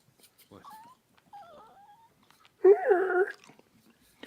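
A small, shaking dog being held gives a few thin rising whimpers, then a louder wavering whine, fairly close in an otherwise quiet room.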